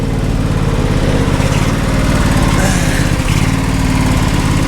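A barn-find John Deere SST16 zero-turn lawn mower engine runs steadily, a loud, close, continuous buzzing drone with a slightly uneven rattling beat throughout.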